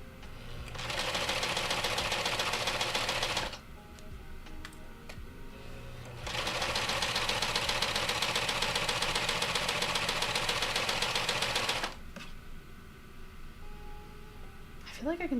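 Home sewing machine stitching seams on a garment, running in two long steady bursts with a pause between, loud and close, with a person talking over it.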